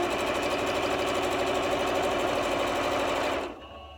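A sewing machine stitches the bottom seam of a fabric drawstring bag at a quarter-inch seam allowance, running in a steady, fast mechanical whir close by for about three and a half seconds before stopping abruptly.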